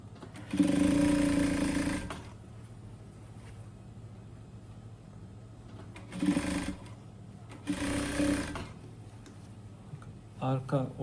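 A sewing machine attaches a waistband to a tracksuit in three separate bursts of stitching, the first longest, with quieter gaps between the runs.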